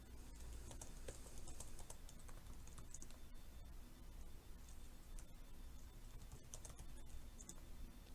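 Quiet, steady clatter of a computer keyboard being typed on, rapid irregular key clicks continuing for several seconds in a quiet room with no talking.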